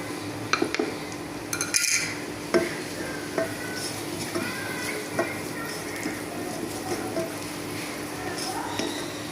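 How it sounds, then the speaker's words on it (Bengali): Turmeric frying in a pan for masoor dal bhorta, a soft sizzle under repeated scraping and clinking of a spoon against the pot, close by. "হলুদটাকে ভালো করে একটু ভেজে নেব"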